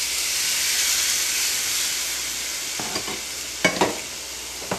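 Salted and peppered steak sears on a grill pan with a loud, steady sizzle and hiss, broken near the end by a few sharp taps and clatters from handling.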